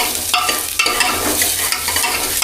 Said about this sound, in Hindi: प्याज तो हो गए मेरे अच्छी तरह से फ्राई